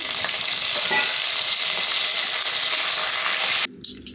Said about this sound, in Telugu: తాలింపు వేగింది కదండి.